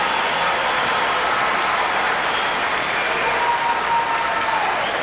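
Large crowd in a curling arena at a Brier playoff applauding a shot, a broad, loud wash of clapping and cheering sustained throughout.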